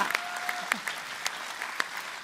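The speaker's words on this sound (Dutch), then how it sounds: "dat vind ik echt een applaus waard" Brief burst of audience applause, steady clapping from a modest crowd with a few sharper individual claps standing out.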